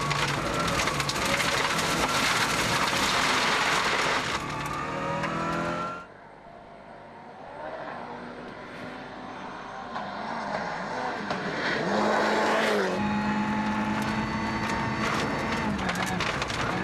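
Onboard a rally car on a fast stage in New Zealand, driven flat out at the limit by Tommi Mäkinen: a loud, close engine roar with rising and falling revs and gear changes, plus heavy gravel and chassis rumble. The engine drops back briefly midway, then surges again.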